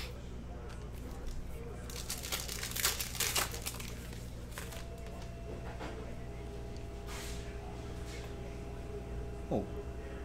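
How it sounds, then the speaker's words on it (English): A retail pack of 2019-20 Panini Prizm Basketball cards is ripped open, with crinkling and tearing of the foil wrapper in dense bursts, loudest early on, over a quiet background with a faint low voice. "let's just print and rip"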